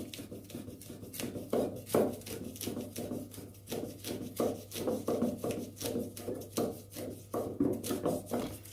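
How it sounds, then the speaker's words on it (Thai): Kaffir lime leaves for a fresh shrimp salad being finely shredded with a sharp knife: close, soft repeated cutting taps on a board in an uneven rhythm, with no voices over them. "มีดคมๆซอยทีๆแค่นั้นเองค่ะ"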